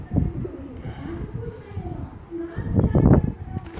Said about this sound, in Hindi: ये जामनी गले का कबूतर है